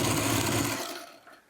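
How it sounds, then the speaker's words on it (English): Sewing machine stitching traditional quilt blocks, a close, rapid mechanical whir running steadily, then slowing and fading out as the needle stops. "Oh, I love this sound of this machine. It just sews so beautifully."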